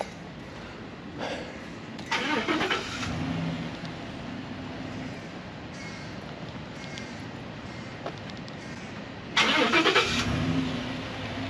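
Truck engine running as a steady idling rumble throughout, with a couple of louder revving swells, heard at close range with no talking.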